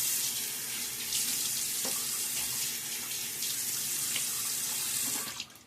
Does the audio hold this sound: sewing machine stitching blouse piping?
no